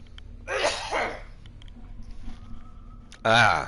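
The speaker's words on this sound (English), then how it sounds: "Let me clear my throat here." A man clears his throat twice, two short harsh bursts separated by a pause, close to the microphone with faint background sound between them.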